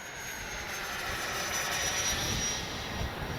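An FMS 70mm Yak 130 RC model jet flies overhead on a windy day, its ducted fan giving a steady distant whine with a high tone over wind noise, swelling slightly midway.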